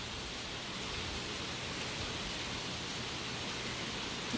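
Steady rain falls around a school house on a lazy day, a faint, even hiss of drops with no distinct impacts and no talking.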